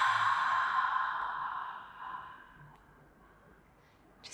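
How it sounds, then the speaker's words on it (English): A long, deep breath pushed out through the mouth during a guided Pilates breathing exercise, a soft airy exhale that fades steadily over several seconds on its own, with no talking. "Deep breath out through the mouth."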